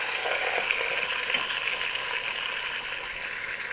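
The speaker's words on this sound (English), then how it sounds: "I'm going to flip this over and let it brown on the other side" A pot roast browning in a Tristar Power Pressure Cooker XL sizzles steadily, a loud even frying hiss with no talk.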